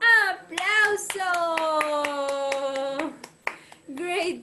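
At the close of a dance class, sharp hand claps ring out in a loose rhythm beneath loud, drawn-out voices calling out and talking over them.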